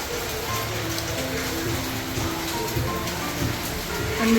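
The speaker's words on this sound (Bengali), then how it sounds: "বৃষ্টি থামার তো নামই নিচ্ছে না হয়েই যাচ্ছে" Steady rain falling and pattering on surfaces, a dense continuous hiss with a soft tonal hum underneath.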